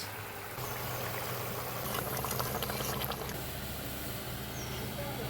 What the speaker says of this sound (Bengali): কত সুন্দর ফুটছে দেখো কালিয়াটা